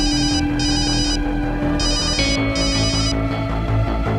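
A telephone rings in repeated electronic bursts, loud and close, over a steady low hum and background music.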